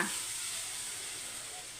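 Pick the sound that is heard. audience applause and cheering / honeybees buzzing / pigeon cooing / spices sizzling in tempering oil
spices sizzling in tempering oil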